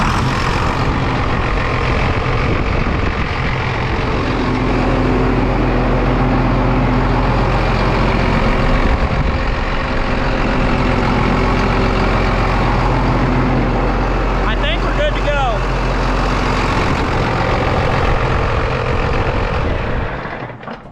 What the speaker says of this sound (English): gonna go ahead and fire the tractor up